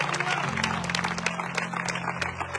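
Applause from a crowd at an evangelistic gathering, a steady patter of many hands clapping over a low sustained tone, with some voices mixed in.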